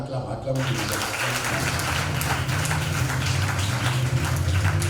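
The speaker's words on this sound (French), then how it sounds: "Acclame." Congregation applauding during a worship service, a dense, steady crackle of many hands that fills the whole span after a brief quieter opening, with a low hum of voices underneath.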